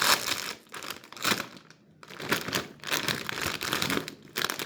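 Light, nearly empty snack bag crinkles sharply in close bursts as it is pulled open, with uneven pauses between the rustles.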